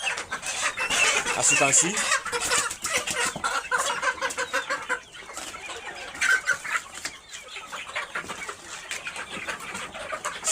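Layer hens on a poultry farm cluck and squawk continuously while being moved, close and busy, with a person talking over them.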